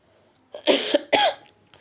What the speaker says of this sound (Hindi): माफ करिएगा, खांसी आ गया था